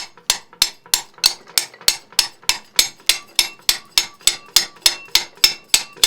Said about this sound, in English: Just tap it on it with a brass hammer.